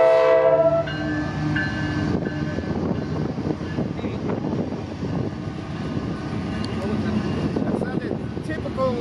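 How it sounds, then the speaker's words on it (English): A K5LA air horn blares from a CPKC freight train locomotive, a loud multi-tone blast opening the clip before fading into rumbling train passage with people talking over it. "That's a typical K5LA horn."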